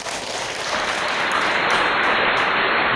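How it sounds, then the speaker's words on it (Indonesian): Women at a lively community outreach session clap with their whole hands, a dense, steady burst of applause that swells within the first second and holds loud and even throughout. "tepuk 5 jari"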